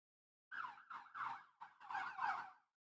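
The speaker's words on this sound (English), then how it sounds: "the fire truck, ambulance, another ambulance" Emergency sirens from a fire truck and ambulances wail in short, wavering bursts that rise and fall, standing out clearly against silence for a couple of seconds.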